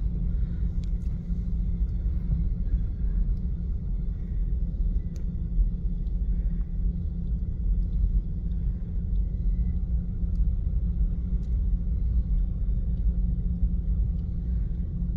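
Cars on a street in front of an apartment building in the Philippines, near a flooded low-lying area, make a continuous low traffic rumble with faint higher clinks, steady throughout and close, with no talking.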